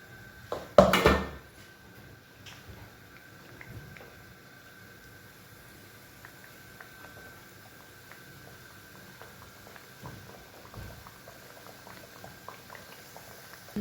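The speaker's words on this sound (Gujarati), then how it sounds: "હવે આપણે બધા મુઠાઈ કેક કરીને ધીમા ગેસે તળી લઈએ" Muthia dumplings deep frying in oil on a low flame, a soft, steady bubbling with light pops after a brief louder clatter at the start, no voices.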